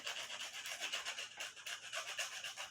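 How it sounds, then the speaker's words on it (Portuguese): Medium-grit sandpaper rubbing steadily over a thin plaster capture layer during mould finishing, a continuous close, soft rasping scrape in short repeated strokes, with no voices. "para isso eu vou usar uma lixa não muito grossa."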